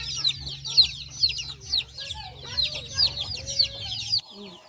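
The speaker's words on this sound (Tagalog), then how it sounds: "Lots of chicks here inside." Native free-range chickens and chicks on a Philippine farm cluck close by in a steady, overlapping stream of short calls, with a low constant hum underneath.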